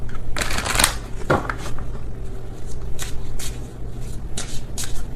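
Oracle cards being shuffled by hand, a series of close, crisp riffling bursts repeating over a few seconds with brief pauses between them.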